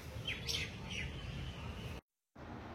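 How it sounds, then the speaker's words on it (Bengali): Birds chirp faintly in a garden of chilli plants in rainy weather, with a few short high tweets over soft background hiss before a brief cutout. "আর মাঝে মাঝে আপনাদের একটু করে পাখির ডাক শোনালাম"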